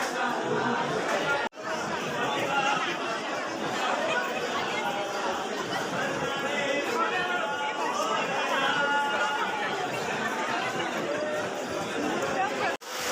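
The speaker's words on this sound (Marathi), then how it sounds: "एवढी भरपूर गर्दी आहे आज" A dense crowd queues at Ganpatipule temple, a steady close hubbub of many overlapping voices and chatter with occasional footsteps, nearly continuous throughout.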